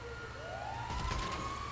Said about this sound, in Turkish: Yok itfaiye geliyor.